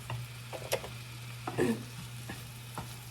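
Bitter melon stirred in a frying pan, a soft sizzle underneath with a few distinct scraping strokes of the spatula, close and fairly quiet, no voices.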